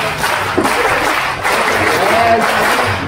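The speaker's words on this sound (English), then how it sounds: "Let's put your hands together for Ma'am Jess Capis Sika." An audience at a school cultural night during a backyard camping event applauds, with dense, continuous clapping for about three seconds and voices mixed in.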